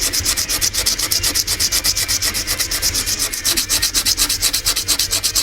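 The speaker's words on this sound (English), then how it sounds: "you're going to have to sand it down again with the rough sandpaper to clean up your ink" Rough sandpaper is rubbed back and forth over a scrimshaw surface in steady, rapid strokes, a close, continuous scratchy rasp with an even rhythm and no voices.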